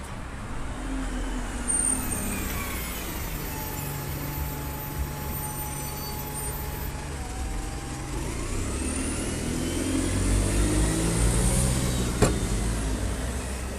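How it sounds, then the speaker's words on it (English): Steady roadway noise at a town-centre roundabout in Nuneaton: engines rumble and swell as buses and cars pass close by, with the din growing louder and rougher in the second half. No one speaks. "Buses are just so noisy."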